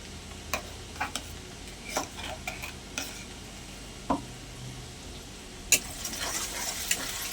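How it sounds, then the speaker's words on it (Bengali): Ginger garlic paste and onion frying in a pan for a shrimp and banana-blossom ghonto, with a steady sizzle broken by scattered clicks and scrapes of a spoon stirring against the metal. "আদা রসুন বাটা আর পেঁয়াজটা একটু ভাজা ভাজা করে নেবো"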